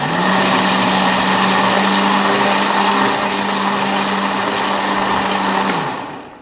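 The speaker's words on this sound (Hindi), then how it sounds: "तो इधर हमारे चावल उबाले हो चुके हैं, तो इसको हम ग्राइंड करेंगे।" Boiled rice being ground in an electric grinder, a loud, steady motor whir with a droning hum that runs continuously and then winds down sharply at the end.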